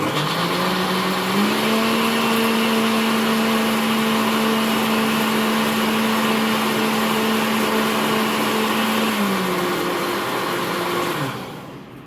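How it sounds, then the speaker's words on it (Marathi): An electric mixer grinder whirs steadily as it grinds soaked wheat, a loud, even motor whine that rises slightly in pitch after starting, holds for about ten seconds, then drops and winds down to stop. "बघा, मी मिक्सरला बारीक करून गहू घेत आहे"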